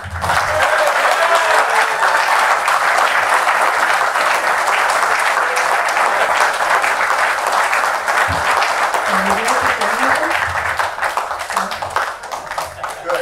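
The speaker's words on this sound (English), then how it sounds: "Please join me in extending a well-deserved round of applause to Mr. John Benoit." A community gathering at a Jaybirds Day event breaks into sustained, dense applause for an honoree, loud and continuous for over ten seconds before tapering slightly at the end.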